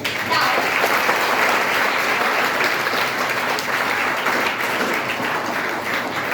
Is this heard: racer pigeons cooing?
no